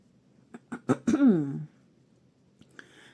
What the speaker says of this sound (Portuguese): Desculpa os pigarros